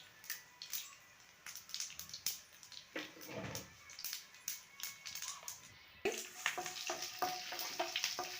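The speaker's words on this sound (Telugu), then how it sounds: "ఇప్పుడు మనం వేరుశనగ పప్పులు వేసుకుందాం" Peanuts hit hot oil with a soft burst, followed by quiet, steady crackling and scattered sharp pops and clicks.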